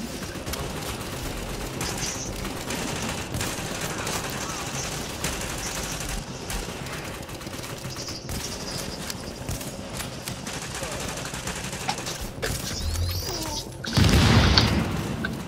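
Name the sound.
gunfire in the video game Tom Clancy's The Division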